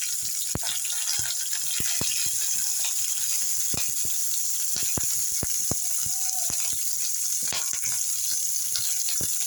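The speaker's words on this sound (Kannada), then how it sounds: "ನೋಡಿ, ಇವಾಗ ಈರುಳ್ಳಿ ಹಾಕ್ಕೊಳ್ತಾ ಇದ್ದೀನಿ." Onions frying in a pan for a fish sambar, a steady broadband sizzle with sharp clicks and taps from stirring scattered throughout.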